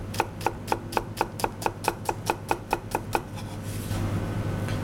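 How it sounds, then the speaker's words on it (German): A knife coarsely chops Ligurian olives on a board in about fifteen quick, evenly spaced sharp knocks, close and clear, then stops and leaves a steady background hiss. "Die Oliven werden einfach grob gehackt, um die Füllung von unserer Rotbarb zu machen."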